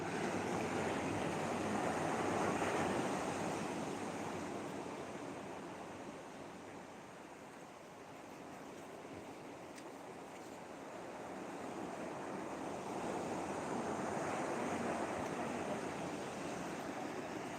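Sea waves wash onto the shore at night, a steady broad rushing surf that swells and recedes in slow surges, with some wind noise over the microphone and no voices.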